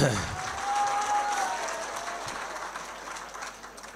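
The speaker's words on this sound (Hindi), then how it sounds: "तालियां बजा दे आप पहले एक बार" Steady applause from a crowd at a mushaira poetry gathering fills the clip, with a brief tonal whistle-like note early on, gradually fading slightly toward the end.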